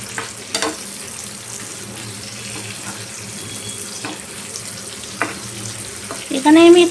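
Fried potatoes and cauliflower sizzle loudly in a pan, a dense hiss punctuated by a few clunks and scrapes, ending with a brief burst of running water.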